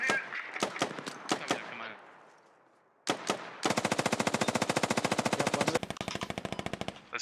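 Gunfire in a squad-based shooter game: a few sharp single shots with echoing decay, a pause, then long rapid bursts of loud automatic machine-gun fire.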